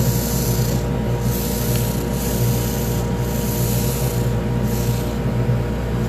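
A Kojent rollerball pen is sanded with sandpaper on a lathe, starting at 240 grit, giving a continuous close, loud rubbing rasp with a steady hum underneath and faint periodic swells, with no voices.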